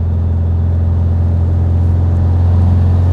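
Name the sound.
car driving up a steep slope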